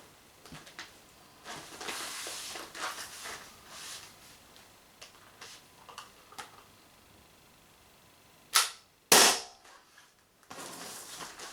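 A Umarex HDR68 air pistol fires with a fairly quiet pop, two sharp loud bursts close together near the end, preceded by faint clicks and handling noise.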